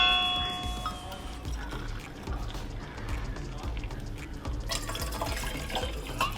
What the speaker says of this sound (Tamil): முதல்ல வந்து பச்சை தண்ணியை விடுவோம்